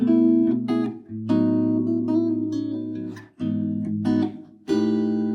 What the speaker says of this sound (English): I'm playing with the pick and my fingers.